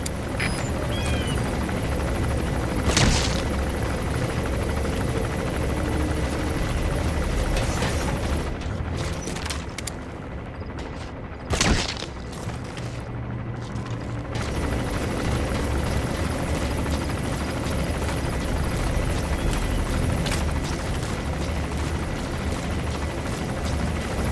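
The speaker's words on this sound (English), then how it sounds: "There's a chopper landing." Helicopter landing in Metal Gear Solid V, a loud continuous rotor thrum and engine roar filling the whole stretch, with a couple of brief thumps partway through.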